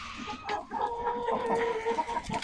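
Crested rooster clucking close by in a farmyard, a run of short throaty clucks and warbling notes, loud and unbroken by speech.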